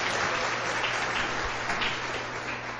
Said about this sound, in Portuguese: vamos manifestar nossa gratidão com a palavra, aplaudindo esse ensinamento maravilhoso do Senhor para nós aqui.